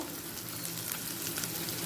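Prawns fry in a pan with onion, green chili and tomato, making a continuous, dense sizzle at an even level throughout, close up with no talking.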